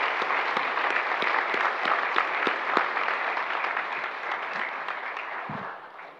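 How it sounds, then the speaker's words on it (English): A church congregation applauds the children after a closing prayer, a steady dense wash of clapping from many hands that holds throughout and tapers slightly at the end. "let's send them off with some applause, shall we?"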